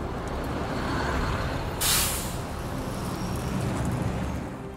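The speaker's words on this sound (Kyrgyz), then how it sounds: "автобустардан" A bus rumbles nearby, and partway through its air brakes let out a short, bright hiss before the low engine noise carries on alone.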